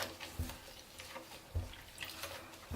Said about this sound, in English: Have to rinse that through as well before we put the dye in.